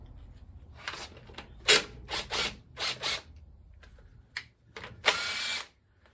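A hand ratchet tightening bolts on a TH400 transmission pan, heard as several short separate bursts of clicking with pauses between them, close and fairly loud, ending in a longer run of rapid ratcheting.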